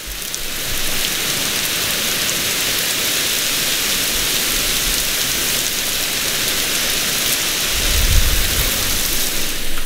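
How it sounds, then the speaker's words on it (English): Heavy rain pours steadily outside during a thunderstorm, a dense, constant hiss of rain on surfaces, with a low rumble of thunder swelling near the end. "It's raining really hard out there."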